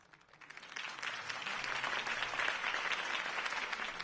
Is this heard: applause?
yes